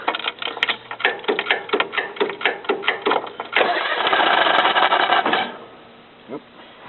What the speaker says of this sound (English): I'll restart the engine.